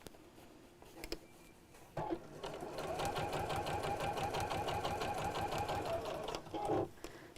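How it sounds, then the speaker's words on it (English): A sewing machine runs steadily around the curved edge of a rattan-handle bag flap, stitching the binding in a fast, even mechanical rhythm that starts after a short pause and carries on for several seconds up close. "And just keep sewing all the way around."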